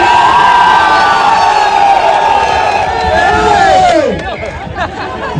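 A large crowd cheers and shouts at a UP Police honour ceremony, a loud sustained roar of voices with whoops rising above it, dropping off near the end.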